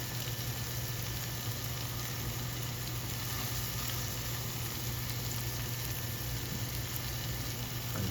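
Chicken breasts cook over low heat in a pan, giving a steady, quiet sizzle and hiss that runs unbroken throughout, with no talking over it.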